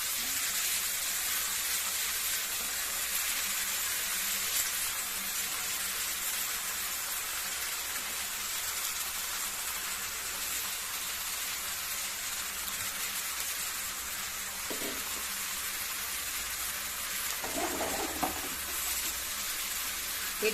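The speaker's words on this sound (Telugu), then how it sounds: "ఇప్పుడు అరటికాయ వేసేసుకుంటున్నానండి. నేను 2 అరటికాయలు చాలా చిన్న ముక్కలు తీసుకున్నానండి" Small pieces of raw banana fry in a pan with a steady, close, broadband sizzle and hiss that holds evenly throughout, with a couple of faint clinks of stirring near the end.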